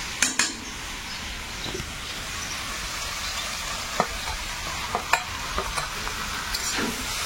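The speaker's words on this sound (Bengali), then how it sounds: "এবারে ভাজা চিংড়িটা এর মধ্যে দেবো।" Fried shrimp stirred into a pan of Malabar spinach with green chillies, giving a steady close sizzle broken by scraping stirs and occasional sharp clinks of utensil against pan.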